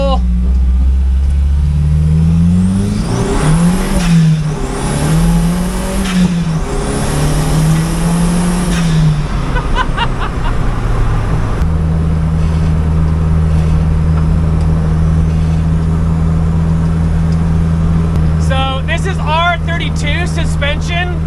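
A VW MK1 Golf with a 1.8 turbo engine and all-wheel drive revs and accelerates hard, loud engine pitch climbing through several gear pulls, then settling into a steady drone with brief whistling turbo sounds near the end.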